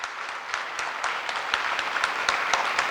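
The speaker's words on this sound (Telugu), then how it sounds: "పాలేకర్ గారికి విజయరామ్ గారికి గట్టిగా చప్పట్లు కొట్టమని" An audience at a turmeric farming gathering claps for the guests on stage, a crowd of scattered individual claps building slightly louder over a few seconds.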